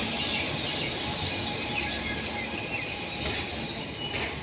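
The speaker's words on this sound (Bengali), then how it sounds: "তিস্তা তোষা এক্সপ্রেস চলে এসছে।" A nearby rumble of the Teesta Torsa Express, running from Sealdah, pulls into a station at a steady level throughout, with faint bird chirps in the background.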